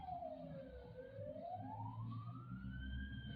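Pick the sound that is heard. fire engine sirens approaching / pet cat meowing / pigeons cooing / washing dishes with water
fire engine sirens approaching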